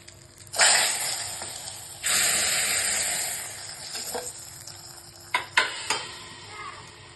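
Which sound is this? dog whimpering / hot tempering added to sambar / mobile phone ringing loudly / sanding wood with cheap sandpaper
hot tempering added to sambar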